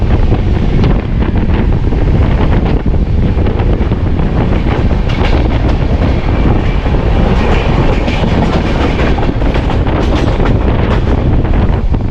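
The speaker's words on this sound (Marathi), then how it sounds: "आता पुन्हा परत निघाली ट्रेन" The LTT–Madgaon Express passenger train rumbles along at speed on the Konkan route, its wheels clattering steadily under a loud, constant roar of wind and carriage noise.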